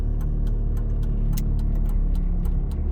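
A car in first gear pulls away on a driving test with a steady low engine hum heard from inside the cabin, and the regular clicking of a turn indicator ticking throughout.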